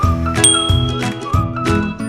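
Bright bell-like notification dings ring out in a quick repeating jingle, loud and close, with sustained metallic tones.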